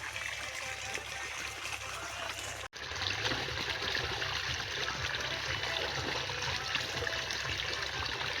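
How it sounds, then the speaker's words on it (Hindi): Hands are washed under flowing cold water outdoors in a village forest after fruit picking, a steady close trickle and splash running throughout with one brief break. "तो हम अब हाथ धो लेते हैं।"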